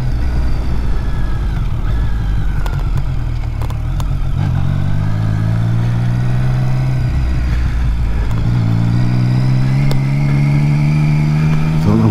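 A motorcycle engine is revved hard while riding along a bypass, with rising and falling harmonic engine tones and steady throttle surges over continuous road and wind noise, close and loud throughout.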